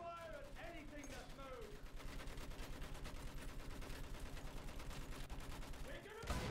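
Dense battlefield gunfire in the Battlefield 1 campaign, rapid overlapping rifle and machine-gun bursts rattling steadily for several seconds, ending in a sharp louder blast.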